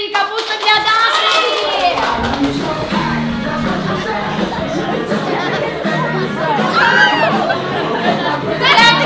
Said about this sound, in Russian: Даша, аплодисменты и капуста для Даши!